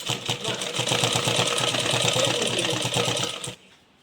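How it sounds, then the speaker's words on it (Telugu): A sewing machine stitches lining cloth on a blouse sleeve in a tailoring setting. A fast, steady rattling run of stitches lasts about three and a half seconds and then stops abruptly, loud and close. "ఇలా తిప్పించి దీనిపైన ఒక కుట్టు వేయాలి"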